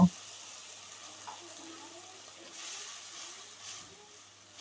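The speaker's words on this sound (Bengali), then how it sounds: "এবার মশলাটা আবারও ভালোভাবে কষে নেব" Masala with prawns for a water spinach dish fries in a pan with a splash of water as it is stirred, a quiet steady sizzle with soft scraping and a few faint bursts, close by and without talk.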